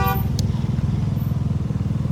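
A Chinese GY6 moped with an 82cc big-bore four-stroke engine idles close by with a loud, steady low throbbing putter, after a short horn toot at the start.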